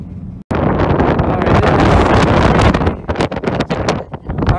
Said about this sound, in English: It is extremely windy. You might not be able to hear me too well.